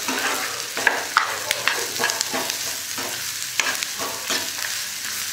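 Onions frying in a pan, with a steady sizzle and repeated scraping stirs at close range, no talking.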